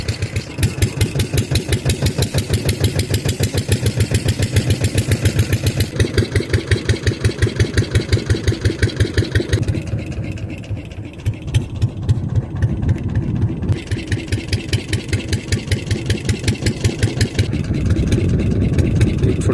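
A boat's engine chugs steadily on a Sundarban river, loud and close with a rapid, regular pulsing beat that dips briefly partway through before settling back into its throb.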